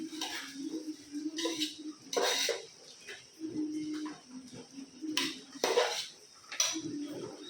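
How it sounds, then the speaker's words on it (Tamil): A spoon stirs rice and masala in a pot for a pulao, giving intermittent scraping and clinking strokes against the metal in an irregular rhythm, close and moderately quiet, with no speech. "மசாலா எல்லா பக்கம் படுற மாதிரி கிளறி விடணுங்க."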